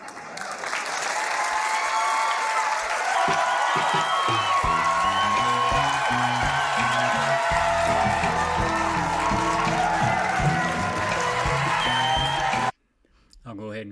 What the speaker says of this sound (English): I'll go ahead and cut the crowd noise there